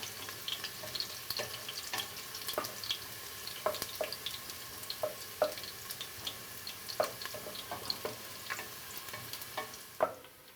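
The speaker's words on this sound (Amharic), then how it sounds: "አሁን ሽንኩርቱ ትንሽ ጠበስ እያለ ነው።" Garlic frying in hot oil for an Ethiopian lentil stew (misir alicha), a steady close sizzle with scattered sharp pops and occasional stirring clicks, no voices.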